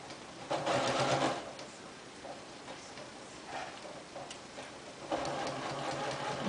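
A sewing machine stitches around a straight waistband, running in two steady whirring bursts at the start and end with a quieter pause between, close and alone.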